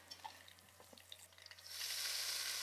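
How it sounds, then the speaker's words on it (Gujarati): Mustard seeds, curry leaves, asafoetida and two whole red chillies hit hot oil for a chutney tempering. After a few quiet clinks, a bright, steady sizzle rises and holds close by. "તેલ ગરમ થાય એટલે એમાં સીધું રાઈ, લીમડો, હિંગ નાખી દઈએ. 2 લાલ મરચાં નાખી દઈએ મેં આખા."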